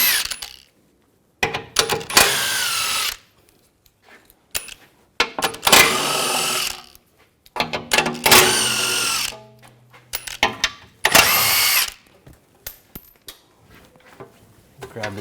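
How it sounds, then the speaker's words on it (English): Power tool with a 16mm socket removing shield bolts under a 2009-2010 BMW 535i xDrive, in several loud close whirring bursts separated by quiet gaps and faint metallic clinks. "We're going to remove this shield, use a 16mm socket."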